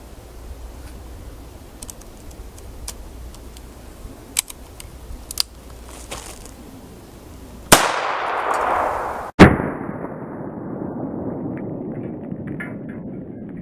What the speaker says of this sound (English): I'm going to use rat shot and just see what that does on the drywall here